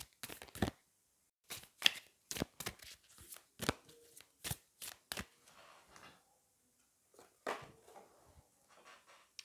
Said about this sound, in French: on va aller prendre des cartes du chakra du cœur pour avoir un message